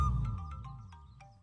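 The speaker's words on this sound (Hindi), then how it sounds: "हर 5 मिनट बिना रुकने वाला अलार्म जैसा फोन बजता ही रहता है" A mobile phone ringing in a tone that repeats like an alarm, a steady tonal line with short chirps recurring at a regular beat, heard over a low rumble that fades across the clip.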